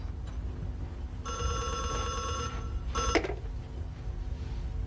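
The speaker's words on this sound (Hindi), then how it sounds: "देखो बेटे फोन" A household telephone rings indoors with a bright electronic bell trill in two bursts, the second brief and cut off, over a low background hum; nobody speaks.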